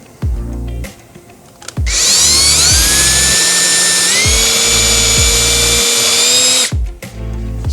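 A power drill bores into a kitchen cabinet to fit a knob: a loud, close whine runs steady for about five seconds and dips slightly in pitch partway through, with short motor bursts and thumps before and after.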